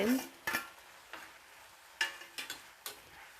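Okra stirred into masala and frying in oil, with a soft steady sizzle broken by several sharp scraping and clinking strokes of a spoon against the pan, close and fairly quiet.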